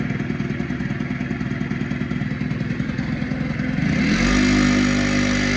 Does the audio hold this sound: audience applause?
no